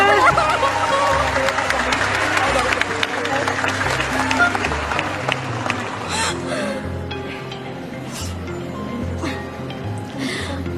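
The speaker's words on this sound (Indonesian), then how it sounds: "ayo kita kasih tepuk tangan dulu untuk Dinda." Audience applause for a speaker at a talk on a domestic workers' protection bill, a dense steady clapping that fills the whole stretch, with light chatter and a few chuckles mixed in and the crowd thinning slightly toward the end.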